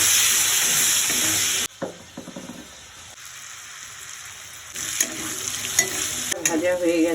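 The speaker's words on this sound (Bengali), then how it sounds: "আলুটা আমি একটুখানি ভেজে নেব।" Potatoes fry in a pan for vegetable rezala, giving a loud, steady sizzle that drops suddenly, then continues as quieter crackling with stirring, close by and without talk.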